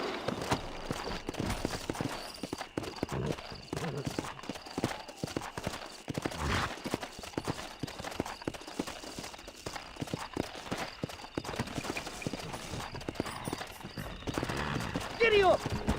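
Hooves pound in a fast, continuous gallop as a horse is ridden in Red Dead Redemption, mixed with game ambience and an occasional whinny; a voice briefly calls out near the end.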